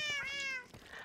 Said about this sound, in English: maybe that's the sound of my cats